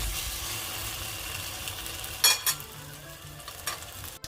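French toast fries in a hot pan with a soft, steady sizzle, interrupted by a few sharp clinks and scrapes from a utensil partway through, close by and without speech.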